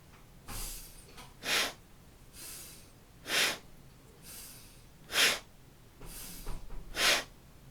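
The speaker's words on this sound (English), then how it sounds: "Inhale up, exhale down." Forceful breaths in and out during a kundalini kriya exercise, about eight audible airy rushes alternating inhale and exhale in a slow, even rhythm, close and fairly loud with quiet gaps between.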